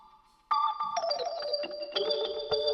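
High-register tones from a B3 organ played through a Leslie speaker's rotating top horn, a sustained chord that swells and wavers with a spinning shimmer, loud and near after a quiet opening note.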